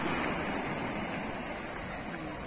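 Ocean surf at Virgin Beach in Karangasem, Bali, rolling in as a steady, loud broadband wash that continues unbroken for the whole stretch, with no voices.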